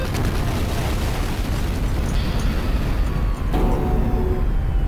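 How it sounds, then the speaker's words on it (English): The Monokuma bear blows up in the Danganronpa video game, a loud, rumbling blast that fills the whole stretch, with a sharper burst and crackling debris near the end. "Little fucker just blew up."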